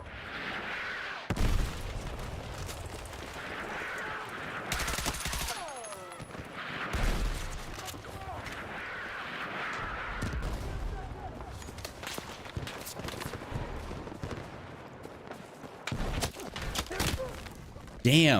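Battlefield 6 mortar fire lands in repeated bursts of gunfire and explosions, sharp booms scattered across the scene with someone talking over them.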